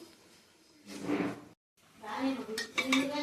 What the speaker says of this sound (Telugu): ఆనియన్స్ కట్ చేసుకుంటున్నా.